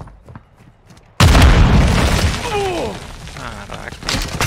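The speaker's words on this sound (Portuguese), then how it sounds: "Granada lançada." A grenade blasts in the Call of Duty Warzone 2.0 video game, a sudden loud boom followed by a long rumbling, crackling tail with scattered debris and game effects.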